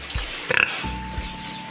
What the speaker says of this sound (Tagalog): tapos natin pakain ng ating uh, alagang baboy